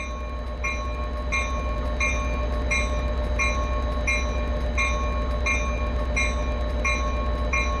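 A train in a simulator game rolling along the rails, steady rhythmic clicks and tonal chimes repeating about every 0.7 seconds over a constant low engine rumble, no voices.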